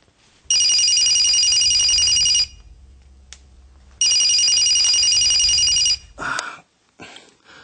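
A telephone rings in two long, loud electronic trills separated by a pause, followed by brief handling noise as the call is picked up.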